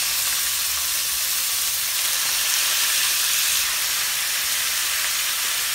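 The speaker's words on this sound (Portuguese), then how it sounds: "Vou começar a jogar o frango." Chicken pieces hit a hot pan with browning garlic, a loud steady sizzle and hiss of frying that holds continuously throughout, no voices heard.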